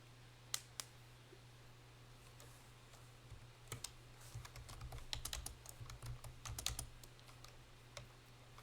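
Clicky computer keyboard typing in bursts of rapid keystrokes, close and fairly quiet, with a steady low electrical hum underneath and no talking.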